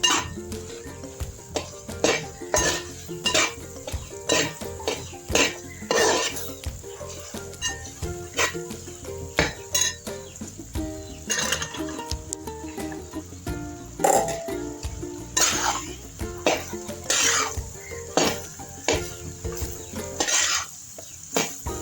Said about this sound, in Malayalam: ഓരോ വെജിറ്റബിൾസും ഇട്ട് നല്ലപോലെ യോജിപ്പിച്ചെടുക്കാം